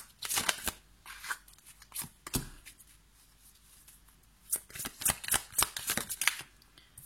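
Tarot cards are drawn and shuffled from a deck by hand, giving a series of crisp paper flicks and snaps in quiet bursts, with a pause in the middle before a quicker cluster of shuffles.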